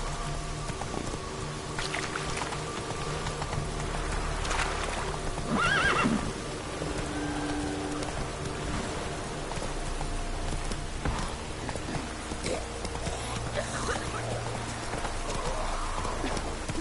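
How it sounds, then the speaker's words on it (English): A horse in The Witcher video game neighs loudly and its hooves clip-clop at a steady walk, with rain falling in the background and no talk. "Whoa there, Roach."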